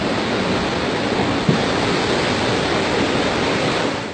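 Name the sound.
ocean waves near railway bridge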